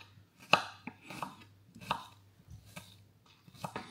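A knife chops salad vegetables on a board, with about eight separate cuts at uneven intervals, close and fairly quiet.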